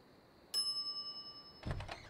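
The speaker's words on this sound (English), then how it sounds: "some idiot's already ringing that stupid bell" A service bell on a shop counter in the video game The Secret of Monkey Island gives a single bright ding that rings out and decays, followed by a short clatter.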